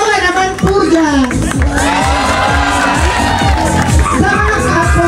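A loud crowd at the Queen of the Highlands 2025 pageant cheers, whoops and shouts continuously, with children's voices rising through the roar and a dense clatter like clapping underneath.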